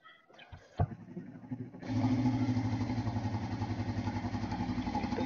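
A motorcycle is kicked over and starts with a clatter, then settles into a steady, loud idle as it warms up, running close by with an even, throbbing rhythm.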